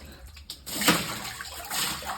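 Water poured and scooped with a mug across a kitchen floor being cleaned of ants, giving a near, splashy gush with one stronger slosh, over a low steady background.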